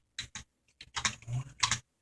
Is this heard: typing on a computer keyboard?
yes